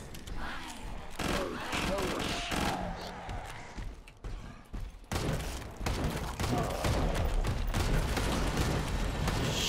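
Dense automatic gunfire in Killing Floor 2 rattles in repeated bursts with booms and impacts, loud and chaotic, while people talk over the shooting.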